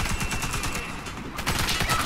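Rapid automatic gunfire in the online shooter Warface, a quick burst of close shots, a brief pause, then another volley of shots.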